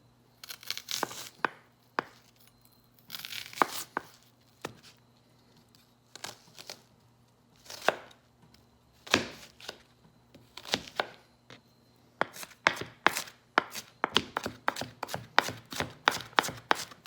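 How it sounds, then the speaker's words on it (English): A knife chops an onion on a cutting board while cooking ragu bolognese, starting with crisp scattered cuts that speed up into rapid, even chopping, close and clear in a quiet kitchen. "I'm going to start by chopping my onion."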